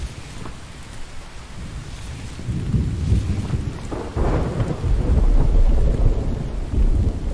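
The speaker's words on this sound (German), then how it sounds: "Hier regnet es rein." Steady rain and rolling thunder in the survival video game The Infected, with rumbles swelling partway through and heavier downpour continuing to the end, no voices.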